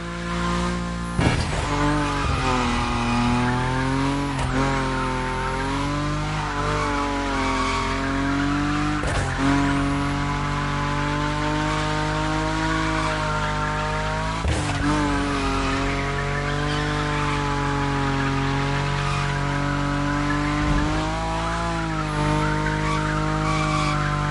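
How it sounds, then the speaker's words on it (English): A Nismo car in Rocket League slides at high speed, giving a loud, sustained engine drone layered with tire squeal that swells and dips repeatedly, with no speech. "Your Nismo is powerful enough to slide along on its own when you're at high speed"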